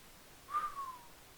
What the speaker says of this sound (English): I wish I could whistle better